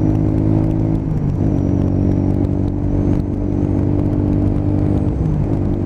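A Honda CB125 five-speed motorcycle pulls away on an open road, its engine drone loud and steady with wind rush, rising in pitch as the rider accelerates.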